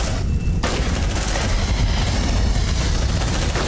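Dense, continuous gunfire and booming blasts from a squad battle in the Aliens: Dark Descent video game, loud and sustained throughout, with a brief sharp crack near the start.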